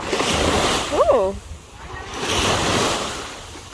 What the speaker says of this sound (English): the waves have just got a bit angry